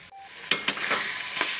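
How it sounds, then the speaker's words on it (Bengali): Spice paste sizzles in a pan as it is stirred, a close, steady frying hiss broken by a few quick scraping strokes of a spatula. "মশলাটাকে সুন্দরভাবে নেড়েচেড়ে একটু ভাজা ভাজা হয়ে এলে"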